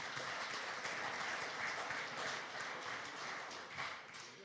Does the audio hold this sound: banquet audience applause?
yes